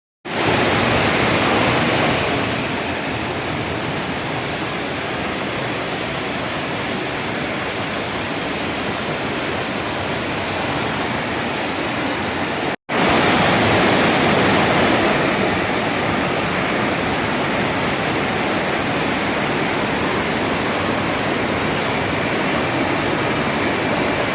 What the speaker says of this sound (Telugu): నీళ్లు చాలా ఉధృతంగా పారుతున్నాయి అన్నమాట చాలా ఫాస్ట్గా పారుతున్నాయి